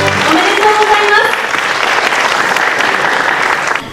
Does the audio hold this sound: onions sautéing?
no